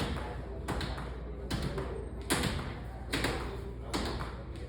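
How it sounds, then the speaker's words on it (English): Knuckles tapping on a door, a series of dull thuds repeating every second or so at close range, with soft voices faintly under them. "Do it on the door. Yeah, just do the door tap."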